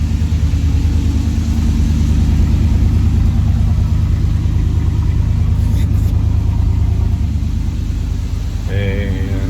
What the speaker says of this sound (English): And there's the cold start.